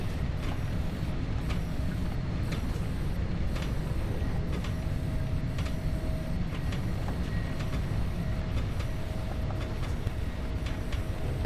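Simulated train running on the Rodachtalbahn in Train Sim World 2022, a constant loud rolling rumble with rhythmic clicks of wheels over rail joints recurring at steady intervals throughout, no voices.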